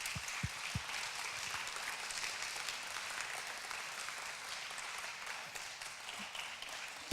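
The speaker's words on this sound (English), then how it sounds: "We can give them a round of applause as they come up." At the IFFR film festival's Cinema Reloaded event, an audience applauds as filmmakers come up on stage. The clapping sounds fairly distant and subdued, a continuous even patter that lasts several seconds without a break.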